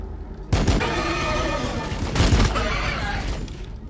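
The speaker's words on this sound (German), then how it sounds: "Egal, wir schießen trotzdem auf ihn." Gunfire in the Battlesector strategy game erupts in two heavy volleys of shots and booming impacts, loud and close, with a rumbling tail after each burst and no speech.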